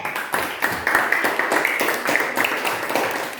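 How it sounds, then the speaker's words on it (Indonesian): Students in a classroom applaud a classmate, a short burst of rhythmic group clapping in a steady beat, fairly loud and close. "Tepuk tangan dulu buat Dede"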